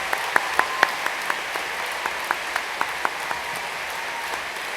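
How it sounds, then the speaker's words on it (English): An audience at a university media and communication graduation ceremony gives a broad round of applause, a steady wash of clapping with a few louder, sharper individual claps standing out near the microphone. "join me in thanking them with another huge round of applause."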